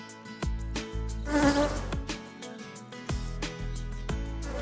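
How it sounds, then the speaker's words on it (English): Bees buzz around a beehive on a farm, a steady close insect drone broken by repeated thumps and handling knocks, with no speech. "There's a little bee there, look, with pollen on its legs."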